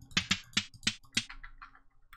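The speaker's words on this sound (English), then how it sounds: "make a snare drum or a clap sound" Five sharp, quick snare-like clicks from Minecraft note blocks sound in a steady rhythm, followed by a few softer, higher taps.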